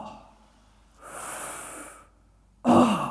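A deep abdominal breath: a soft airy inhale, a pause, then a forceful, breathy exhale through the mouth, close and alone with no speech.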